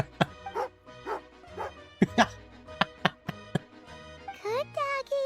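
Repeated sharp dog barks and yips from a Genshin Impact dog, close and loud in an irregular series, with a whimpering whine near the end and a voice speaking in between.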